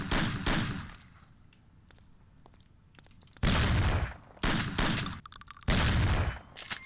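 Shotgun fire in the 2002 video game Mafia: four loud, booming blasts, each with a short decaying tail, spread across the clip with quieter ambient game sound between them.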